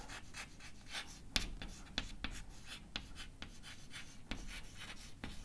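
Mathematical formulae are written by hand, with quick scratchy pen or chalk strokes and sharp taps coming in irregular bursts, close and fairly quiet, while some speech runs in between.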